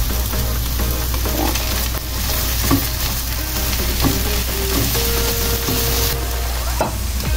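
Three pieces of diced cooked ham fry in a pan for fried rice, a loud, close, continuous sizzle punctuated by scraping and clinking as the pieces are stirred, with no speech.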